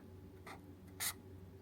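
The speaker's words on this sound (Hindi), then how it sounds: "यहाँ पे लिखती हूँ" A pen or pencil writes by hand on paper during a Korean-alphabet lesson, giving two short, faint scratching strokes, the second a bit louder, over a quiet room hum.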